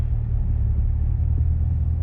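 A parked Aston Martin idles close by with a deep, steady low rumble that holds evenly through a short stretch, no voices.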